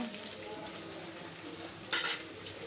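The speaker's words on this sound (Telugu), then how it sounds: "ఇవి కొద్దిగా వేగనిద్దాం పక్కనే ఫ్రై వేగింది ఎక్కువ వేగకూడదు అన్నమాట ఆనియన్ కొద్దిగా వేగుతానే" Sliced onions frying in a pan in a village home kitchen, a steady close sizzle with soft crackle throughout and a brief louder hiss of stirring near the end.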